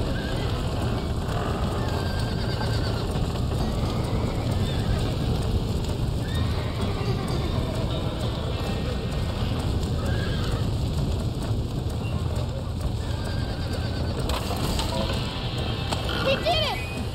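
Horses whinny and hooves clip-clop within a continuous rough noise bed, probably wind or fire, in the Western video game Red Dead Redemption, with voices now and then.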